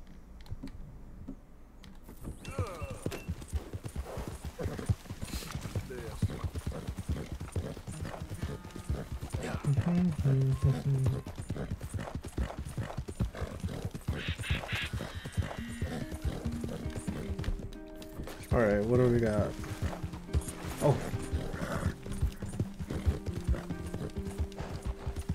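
Horse hooves clip-clop steadily in Red Dead Redemption 2, with a couple of neighs and whinnies midway and keyboard clicks tapping throughout.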